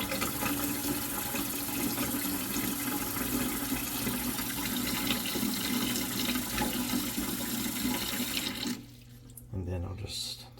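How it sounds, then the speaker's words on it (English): Cold tap water pours steadily into a pot, a loud continuous gushing fill that cuts off sharply near the end, followed by a brief bump and a short final splash. "And I'll fill it this way with cold water."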